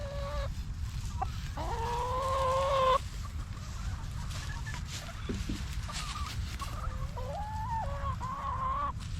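Backyard flock of chickens with a rooster, clucks and drawn-out squawks repeating at close range over a steady outdoor background, with no one speaking.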